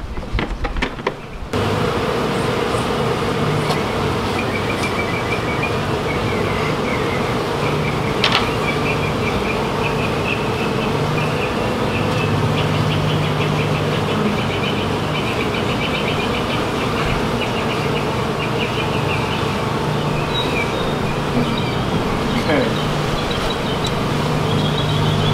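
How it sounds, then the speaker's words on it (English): A dense swarm of bees hums steadily from a brick wall, a loud continuous buzzing that fills the whole stretch without talk. "We got bees covering comb."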